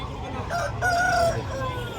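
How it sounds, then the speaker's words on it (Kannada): A rooster crows once at a busy country chicken market in Chandapura, where native and breed chickens and turkeys are sold. The call rises mid-level over a steady din of crowd noise and nearby clucking. "ನೋಡಿ ಇದೆಲ್ಲ ಗಿರಾಜ ಗಿರಾಜ ಕೋಳಿಗಳು ಇವೆಲ್ಲ ಮತ್ತು ಟರ್ಕಿ ಕೋಳಿ ಬಂದಿದೆ"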